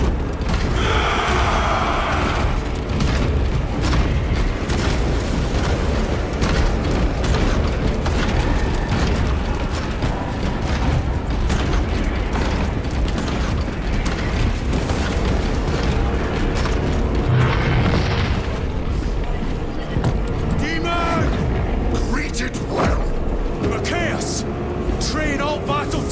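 Warhammer 40k Space Marine 2 combat: a dense, continuous barrage of gunfire and heavy booms with mechanical clatter, loud and unbroken throughout, with game voices shouting orders over it.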